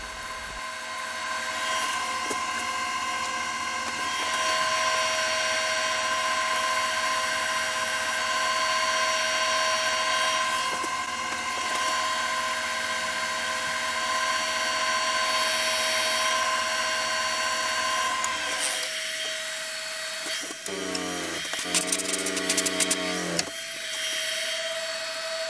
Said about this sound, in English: Working through the grits now, starting at 120, and we're going 180, 240, 320 and 400.